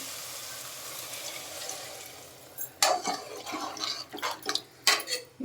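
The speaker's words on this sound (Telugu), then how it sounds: "వాటర్ పోసుకుందామండి." Water is poured into a pan of curry with a soft hissing rush, followed by a few sharp splashes and clatters from the pan.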